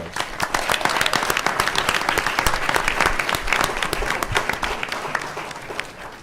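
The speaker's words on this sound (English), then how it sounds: "Let's give the Congressman another round of applause." Audience applause for the Congressman at a Transportation Braintrust session of the ALC conference: dense, steady clapping from a large crowd, held at an even level and easing slightly toward the end.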